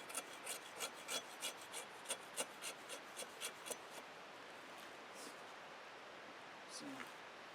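Cold Steel Bolo machete blade shaving down a piece of fatwood, a series of quick, close rasping scrapes in steady rhythm that give way to softer rubbing, with faint hiss throughout.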